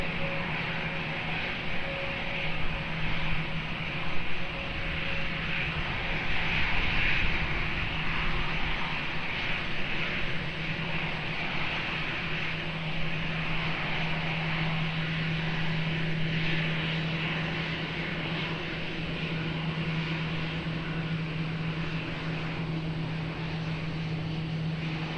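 A Turkish Airlines jet taking off from runway 20 at Lisbon Airport gives a sustained engine roar from a distance, swelling slightly in the first seconds and then holding a steady rumble with a faint tonal whine.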